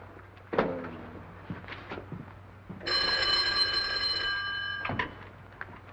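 A telephone bell in a 1939 film rings in a sustained, bright burst, with a few thumps and knocks before it and a sharp clack at its end; nobody speaks.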